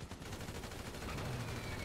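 Gunfire in GTA 5 Online: a dense, continuous rattle of rapid shots like a fusillade, steady and moderately loud throughout with no talk.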